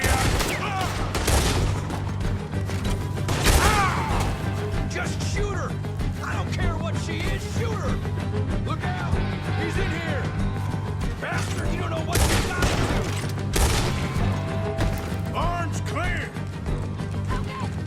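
Dense, loud gunfire from Red Dead Redemption 2 rattles in rapid bursts, with crashes and booming shots layered throughout and voices shouting over the fight.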